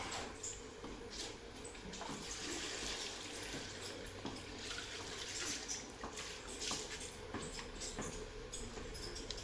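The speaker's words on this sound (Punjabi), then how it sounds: "ਧਾਰਾਂ ਕੱਢਣ ਤੋਂ ਬਾਅਦ ਪਾਣੀ ਦਿਖਾਉਣਾ ਸ਼ੁਰੂ ਕਰਤਾ ਸੀ" Water runs steadily for watering cattle during evening farm chores, a continuous splashing gush with no one speaking.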